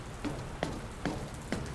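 Rain falls in the video game The Stanley Parable, a soft, continuous patter on surfaces. A few slightly heavier drips land at a regular pace over the quiet wash, and no one speaks.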